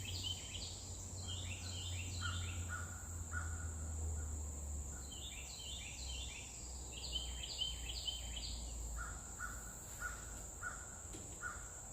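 Crows cawing in a neighborhood, repeated harsh calls in bursts at moderate distance over a steady high insect drone and low background hum, with no voices.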